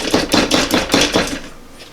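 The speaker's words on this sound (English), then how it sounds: "Chop. The garlic." A knife chops garlic on a cutting board for a pasta e fagioli, about six quick, close, crisp strokes in an even rhythm that fade out at the end, with no voices.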